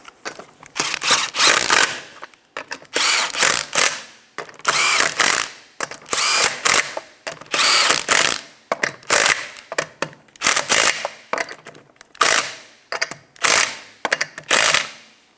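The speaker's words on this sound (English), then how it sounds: "Tighten the lug nuts down in a star pattern." An impact wrench hammers wheel lug nuts tight on a 2007-2012 Nissan Altima, loud and close in repeated bursts of about a second each, separated by short pauses as it moves from nut to nut.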